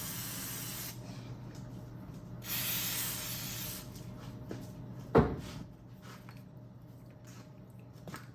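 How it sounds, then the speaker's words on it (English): Short hissing bursts of WD-40 aerosol sprayed onto engine cylinder honing stones during a Triumph TR6 engine rebuild, with a sharp knock or clatter midway and quiet workshop ambience around it. "We're gonna spray WD-40 on our stones."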